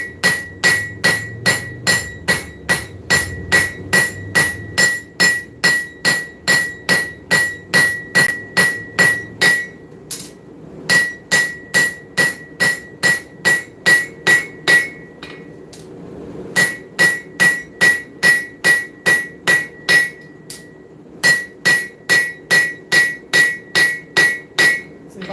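Hammer forging bevels into a seax knife blade: loud, rapid metallic hammer blows in steady rhythmic bursts, with short pauses between runs, and no talking.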